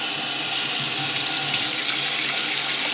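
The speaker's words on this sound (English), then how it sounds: "I'm gonna add a little tiny bit of warm water, like a tiny, tiny bit." Warm water pours steadily from a kitchen faucet into a bowl of thawing tilapia, a loud, continuous hiss that grows slightly fuller after the first half second.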